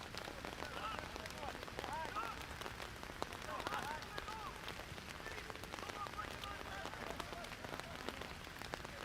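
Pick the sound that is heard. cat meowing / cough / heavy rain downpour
heavy rain downpour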